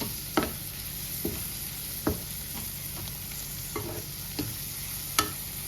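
Prawns stir-fry in a pan with a steady sizzle, broken by sharp, regular scrapes and knocks of a spatula roughly every second, close and clear with no talking.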